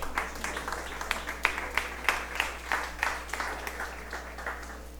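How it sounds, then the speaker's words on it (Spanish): A church congregation claps in praise, a lively rhythmic burst of many hands with distinct individual claps over a low steady hum, moderately loud in a hall. "Fuerte el aplauso para nuestro Señor."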